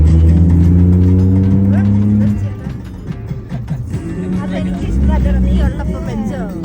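A car's exhaust holds a steady, loud engine drone for a couple of seconds, then a voice talks over a fainter engine hum while the tone swells again briefly.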